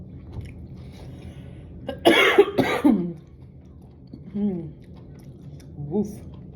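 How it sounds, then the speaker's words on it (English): Several harsh coughs in a quick cluster, loud and close, from someone eating spicy Korean dry hot pot, followed by quieter throat sounds and brief murmurs. "that was a spicy cough"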